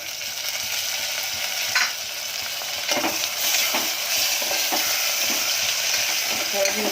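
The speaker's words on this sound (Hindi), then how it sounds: "झींगा को फ्राई करूंगी प्याज में" Prawns frying with onions in a pan for a pumpkin and prawn curry, with a close, even hiss of frying and occasional stirring scrapes and pops throughout.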